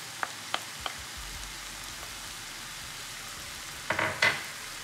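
Ground beef frying in a pan with fresh chopped coriander added, a soft steady sizzle with scattered spatula scrapes and taps, louder stirring bursts near the end, no talk.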